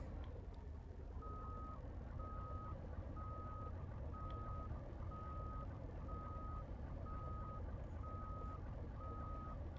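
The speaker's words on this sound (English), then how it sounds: "We have reverse beeping." A vehicle in a video game backs up, its reverse alarm beeping in an even, repeating rhythm of about ten short tones over a low engine rumble, with no talk heard.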